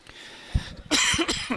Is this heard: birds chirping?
no